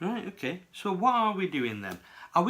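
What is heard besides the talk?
No everyday noises stand out.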